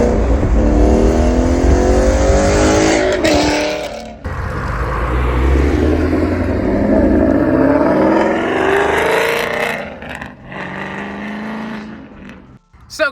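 A Coyote-engined Mustang accelerates hard in a pull, revving up through gears with shift breaks and a loud, rising engine roar heard from close by that tapers off at the end.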